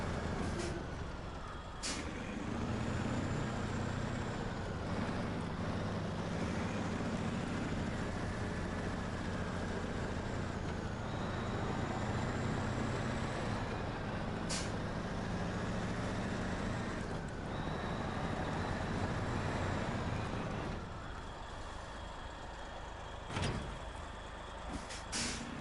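A heavy truck engine in the video game SnowRunner drones steadily for a long stretch, with hissing air-brake bursts and rumbling road noise, fairly loud throughout.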